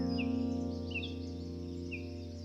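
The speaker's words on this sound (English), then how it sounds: "the only sounds are the birds waking up" Birds sing at dawn on a quiet mountain, three brief high chirps spaced about a second apart over a steady low background hum.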